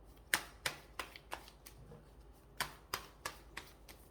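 Tarot cards are shuffled before advice cards are drawn, giving a series of about a dozen crisp riffling snaps in an uneven rhythm. They sit close and clear against a quiet background, with no speech.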